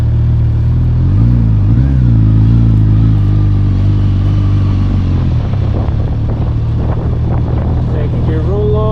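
A Suzuki GSX-S1000GT motorcycle rolls on in second gear, its engine drone loud under heavy wind rush, climbing in pitch as it accelerates toward the end, with a rider's voice briefly audible.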